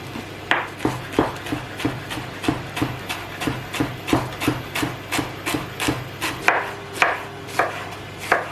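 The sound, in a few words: shredding cabbage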